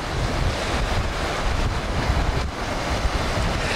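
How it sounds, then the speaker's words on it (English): Ocean waves wash up onto the rocks at Hook Head in a steady, rushing surge of surf, with blustery wind buffeting the microphone throughout. "The water comes in front of you. The waves go up onto the rocks"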